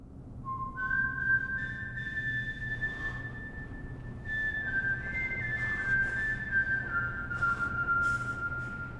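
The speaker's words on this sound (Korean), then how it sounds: "방에서의 휘파람이 온 교도소에 울려 퍼지다니" Someone whistles a slow, sustained melody echoing through a prison, clear and somewhat reverberant, with long held notes rising and falling over a quiet low hum.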